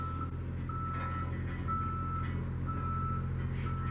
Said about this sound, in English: They're redoing the roads right outside my apartment and they will not be quiet.